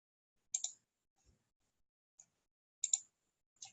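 Clicking to select yes on a computer produces sharp, quiet mouse clicks, some in quick double pairs, separated by silence.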